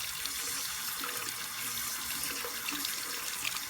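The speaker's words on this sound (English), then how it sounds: "now I'm going to take my brush and just put it in the water" Steady stream of water from a running faucet into a sink as a makeup brush is dipped under it, close and continuous with a soft hiss throughout.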